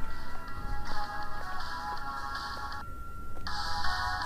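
A phone ringtone plays in repeated electronic bursts with a short gap in the middle, moderately loud and close, during a late shift in a store.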